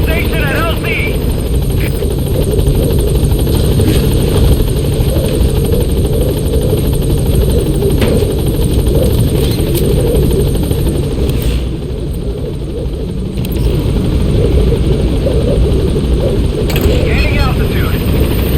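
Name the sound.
helicopter arriving at landing zone in Metal Gear Solid V video game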